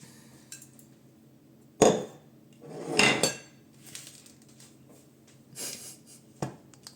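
Dishes and cutlery clatter as they are put away, several separate clinks and knocks of plates and pots with quiet pauses between.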